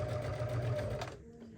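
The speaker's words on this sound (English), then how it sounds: "I'm gonna take my bottom pins out and I'm gonna stitch this one" A sewing machine runs steadily while stitching a fabric tote bag, a close, even motor whir lasting just over a second before it stops and falls quiet.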